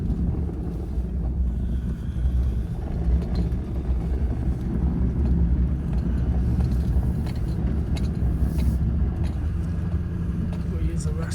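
A truck in four-wheel drive rolls through winter terrain, its low engine and drivetrain rumble steady and close throughout, with wind buffeting and faint voices underneath.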